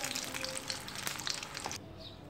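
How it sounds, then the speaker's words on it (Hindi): Paneer parcels frying in hot oil give a steady, busy sizzle with crackling pops, close and moderately loud, before the sound cuts to a quieter hiss near the end. "जब तक गोल्डन ब्राउन होगा हम इसको फ्राई करेंगे"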